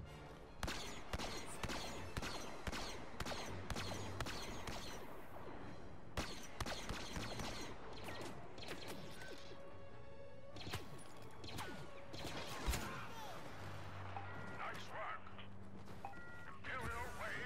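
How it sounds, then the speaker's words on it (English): Blaster fire in Star Wars Battlefront gameplay, with rapid repeated zaps and impacts, crashes and explosions packed densely together throughout, fairly quiet overall. "Okay, so that's normal fire, and then I can charge it up."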